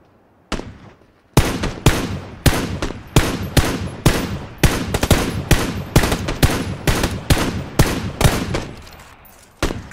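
Enemy gunfire in PUBG: a long series of sharp, loud rifle shots at a fairly steady rhythm, about a dozen cracks with short echoing tails, close and dominant with no talk over them.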